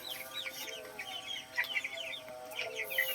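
Chickens clucking steadily in a coop, several birds overlapping in a continuous, busy chatter at moderate distance.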